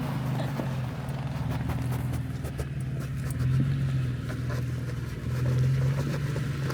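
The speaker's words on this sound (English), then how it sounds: "Can you hear that back tire? That's your locker." Rear differential locker on an off-road vehicle in the Olympic Mountains, clicking at the back tire: rapid, regular ticking over a steady low engine drone, continuous and fairly close.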